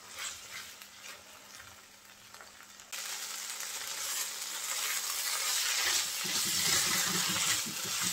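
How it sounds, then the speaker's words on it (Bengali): Fish tails frying in a pan over low heat on a stove, a steady close sizzle that grows louder and denser partway through, with faint stirring and no speech. "চুলার আঁচ এই পর্যায়ে একদম অল্প করে দিয়েছি, অল্প আছে, আমি আরও কিছুক্ষণ ভেজে নেব।"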